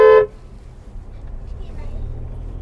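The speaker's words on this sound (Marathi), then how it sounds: "हॉर्न असे पॉंकने वाजते मोठ्याने." A single short, loud car horn blast opens the clip in road traffic on a drive through the Tamhini Ghat, then fades into a low, steady engine and traffic rumble.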